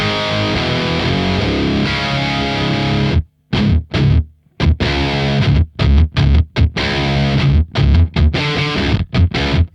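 High-gain electric guitar played through a Revv Generator 100R MKIII amp with its noise gate on, loud and distorted, with sustained chugging chords that give way to tight staccato stabs cut to silence between hits.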